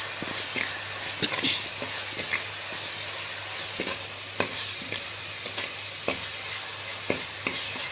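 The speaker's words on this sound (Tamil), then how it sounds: "சீரகம் பூண்டு மிளகு இதெல்லாம் நசி வச்சுக்கிறேன் இதை போட்டு நல்லா வதக்கி எடுத்துக்கிறேன்" Crushed cumin, garlic and black pepper sauté in a pan for a country chicken rasam, giving a steady hiss with an occasional light scrape of stirring.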